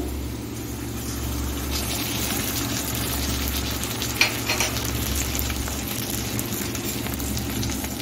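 Ginger garlic paste added to fried onions in a pan over medium heat, a loud continuous sizzle with a low steady hum underneath and one sharp utensil knock partway through.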